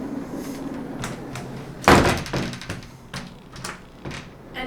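A pocket door in an abandoned hotel slides and bangs: a sudden loud thud partway through, preceded and followed by rattling, clattering knocks and scraping of the door in its frame, close and sharp in a quiet room.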